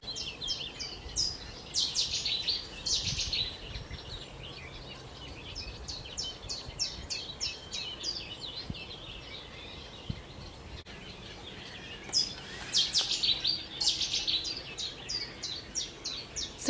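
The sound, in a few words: birdsong of chiffchaff, Cetti's warbler and sedge warbler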